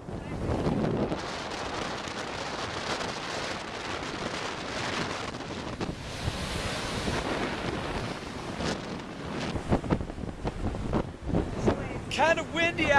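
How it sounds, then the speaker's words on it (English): Strong wind at a California beach buffets the microphone in a steady roar, with gusty rumbles and a voice speaking briefly near the end. "Kind of windy out here."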